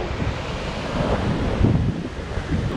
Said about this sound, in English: I can sit here all day listening to the waves